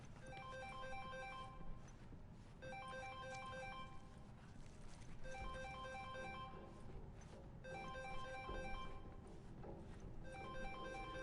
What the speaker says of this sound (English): I feel like I'm supposed to answer that phone.